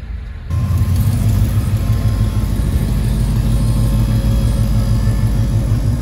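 A car with side exit exhaust runs at a car meet, its deep, loud rumble held steady close by after a brief quieter moment at the start, with no voices.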